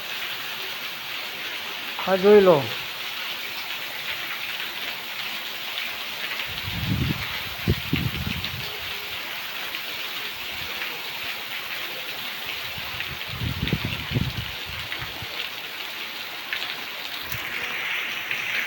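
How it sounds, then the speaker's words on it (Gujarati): Heavy, fast rain pours down in a steady, dense hiss, with a couple of brief voices speaking over the downpour. "અને અત્યારે આટલો ફાસ્ટ જ વરસાદ આવે"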